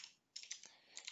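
Quick, light typing on a computer keyboard, two short clusters of soft clicks separated by a brief pause, faint and close with no voices.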